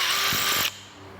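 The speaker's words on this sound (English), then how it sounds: "drilling a bunch of holes in it" A power drill with a sharp bit bores into the plastic of a new Vespa rear tail light, a loud high whine for about half a second before cutting off abruptly, leaving quiet room noise.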